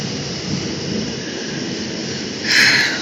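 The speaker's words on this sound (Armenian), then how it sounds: "Մեր մոթից ուժեղ անձրև սկսեց" Heavy rain pours in a continuous loud hiss outside, with a low rumble of thunder underneath and a brief brighter surge of downpour near the end.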